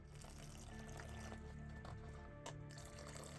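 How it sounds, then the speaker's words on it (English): Hot water, about 200 millilitres, poured into a Norwegian army arctic field ration pouch; a faint, continuous trickling pour lasts the whole moment with a small splash near the end. "That was about 200 mils of hot water I just added."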